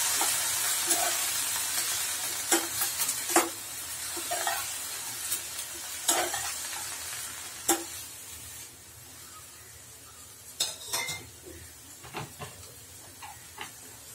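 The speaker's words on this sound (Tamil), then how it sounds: "இந்த அவரக்காய் சேர்த்துக்கோங்க சேர்த்து இத நல்லா வதக்கிக்கோங்க" Broad beans (avarakkai) stir-fried in a pan for poriyal: a steady sizzle broken by repeated sharp clicks and scrapes of a spatula against the pan, fading somewhat toward the end.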